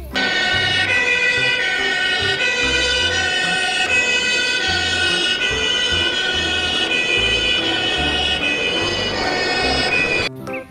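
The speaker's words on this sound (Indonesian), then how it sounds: "Yang ini mobil pemadam kebakaran." A toy fire engine blares a loud, continuous electronic siren with a steady, bright, slightly buzzy wail and rhythmic low pulses underneath, running unbroken for about ten seconds before cutting off abruptly.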